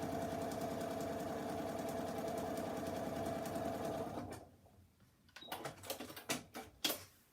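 A sewing machine stitching fabric with a long stitch length, a fast steady mechanical whir for about four seconds, then silence broken by a few sharp clicks and knocks of handling.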